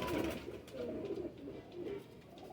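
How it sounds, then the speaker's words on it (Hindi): A Sialkoti teddy pigeon coos in low, soft, rolling phrases, quiet and close, with a few faint clicks in the background. "ये बहुत प्यारा कबूतर है"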